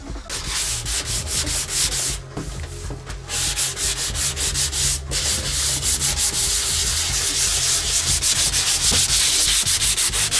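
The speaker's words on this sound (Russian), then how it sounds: "Сегодня он готовит бампера к покраске. Шлифует, тут выпрямляет, шпаклюет." A car bumper being sanded before painting, a loud continuous rasping rub with rapid back-and-forth strokes, close and steady throughout with only brief dips.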